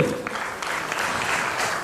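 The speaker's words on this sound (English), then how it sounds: "Can you have a louder round of applause, ladies and gentlemen?" Audience applause for someone speaker taking the stage at a brand storytelling conference, dense clapping that starts loud, dips briefly and swells again, with a few faint voices mixed in.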